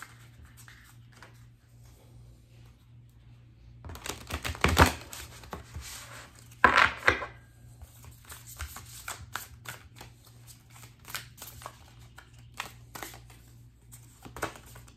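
Tarot cards are shuffled in quick, riffling bursts of papery flicks and taps. Two louder flurries stand out among quieter handling, close by in a calm room with no speech.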